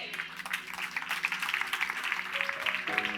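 A church congregation claps in praise during a sermon, a steady, fairly faint patter of many hands with a soft tonal musical backing underneath.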